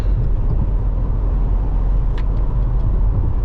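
A car driving on a road toward Tampa, heard from inside as a steady loud low rumble of engine and tyres with a few faint high squeaks.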